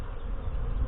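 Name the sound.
anxious Saskatraz honey bees buzzing in hive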